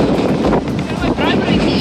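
Strong wind roars against the microphone on a beach at De Hoop Nature Reserve, a steady, loud buffeting rush that barely lets up for the whole stretch.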